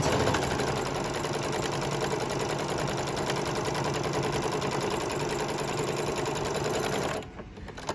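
Close, steady rapid whir and chatter of a sewing machine running continuously while stitching together the curved seam of a fabric face mask, stopping abruptly near the end, no speech.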